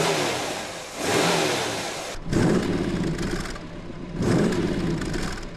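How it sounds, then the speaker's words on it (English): An Opel fitted with a 230 horsepower, 5.4-litre General Motors Corvette V8 revs in three strong surges with short dips between them, loud and close, with no voices. "the 230 horsepower V8 engine developed by Opel's parent company, General Motors"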